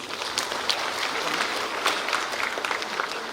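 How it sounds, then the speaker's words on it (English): An audience gives a round of applause for medical officers at a ceremony, a dense, even wash of clapping lasting the whole stretch at moderate volume with no voices on top. "Can we show our appreciation with a round of applause, please?"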